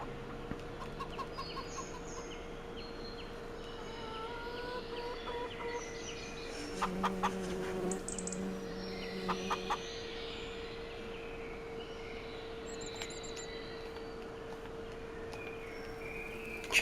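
Chickens clucking in the Farming Simulator 25 video game, soft repeated clucks and scratching sounds over a steady low hum, with a brief louder cluster of bird calls midway.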